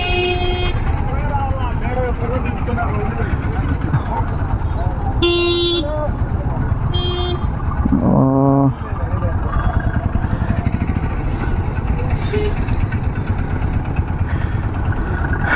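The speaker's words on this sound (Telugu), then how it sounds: "గాయస్ ఫుల్ ట్రాఫిక్ ఉంది ఇక్కడ" Heavy road traffic rumbles close by during a ride on a Yamaha MT 15 motorcycle, with a dense engine drone, motorcycles passing, and several sharp horn blasts cutting through, plus voices in the mix.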